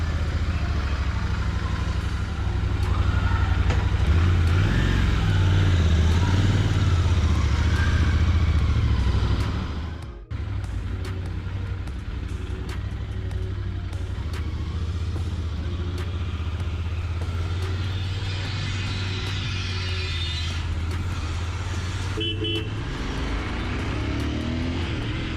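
A modified Royal Enfield Interceptor 650 roadster motorcycle is ridden, its loud, steady engine drone and wind rush continuing throughout with a brief dip in power partway through, as if shifting gear.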